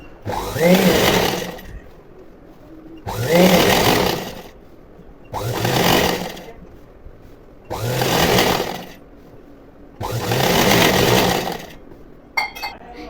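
A sewing machine runs in five separate bursts of roughly two seconds each, stitching falls onto a saree, with short pauses between them. A soft click comes near the end.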